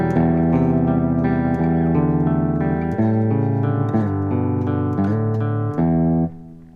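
A clean electric guitar plays the arpeggiated main riff of a song's intro and verse, steady picked notes with a touch of reverb, loud and up close, fading out at the end.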